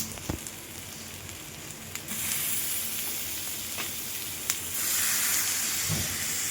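Paneer sizzling in hot masala in a tawa pan for paneer bhurji, a steady hiss of frying steam with a few brief scraping clicks and a louder burst of sizzle toward the end.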